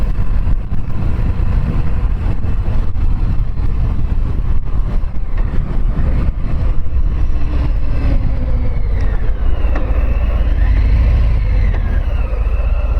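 A 2021 Harley-Davidson Fat Bob 114 motorcycle rides with a loud, steady engine rumble and heavy wind noise, its engine pitch shifting as it accelerates.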